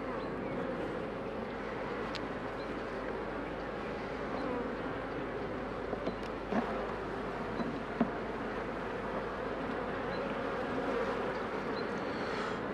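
Steady buzzing of many honeybees close by at the hive, a continuous droning hum with a few brief louder passes.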